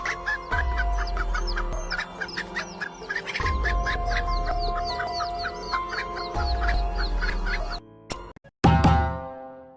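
A rooster clucks and squawks repeatedly in quick, loud bursts, with a few sharp thumps and a harsh flurry near the end.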